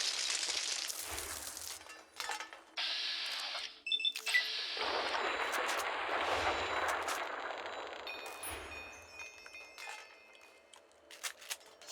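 Rifle fire from a hollow-point, armor-piercing rifle in Fallout New Vegas rings out in several sharp, loud shots with metallic clanks and ringing tails between them, plus crashing impacts, with no talking.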